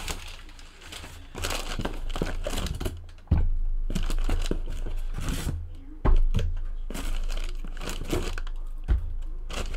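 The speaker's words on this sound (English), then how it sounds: "I just want to get these baseballs out of all of its packaging." Crinkling and crumpling of plastic packaging as baseballs are unwrapped, with irregular crackling bursts and rustles close by, continuing steadily with a few sharper snaps.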